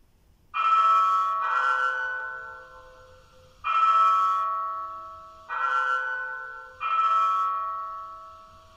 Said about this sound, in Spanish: vamos a dar tres campanadas de acuerdo con este sonido de YouTube.